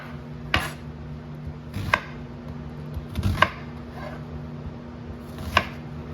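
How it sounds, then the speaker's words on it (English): A kitchen knife coarsely chopping an onion on a board for a big batch of turkey vegetable soup: four or five sharp, separate knocks spaced about a second apart over a low steady hum, close and clear with no talking. "I'm just coarsely chopping up the onion."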